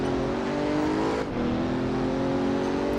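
A Pagani Huayra BC's engine accelerating in a sim racing game on the Nurburgring, a loud sustained rising drone that dips briefly at a gear change, then climbs again, with no talk.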